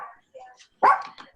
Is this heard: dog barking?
yes